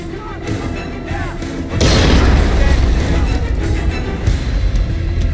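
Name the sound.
grenade explosion in video game Splinter Cell Conviction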